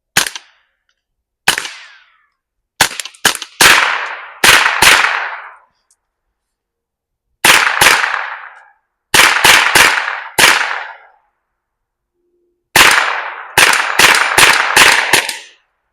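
Suppressed .22 LR rounds from an AR15 fitted with a Colt conversion kit crack sharply at an outdoor shooting range, fired singly and in quick clusters of two to four, about twenty shots with short silent gaps between.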